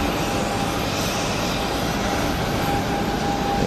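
An airliner roars as it takes off at Geneva Airport, a loud, steady broadband engine rumble heard from nearby with no talking.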